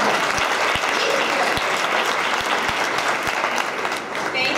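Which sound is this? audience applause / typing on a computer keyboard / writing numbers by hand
audience applause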